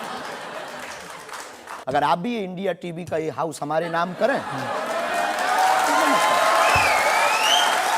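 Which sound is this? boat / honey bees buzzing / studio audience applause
studio audience applause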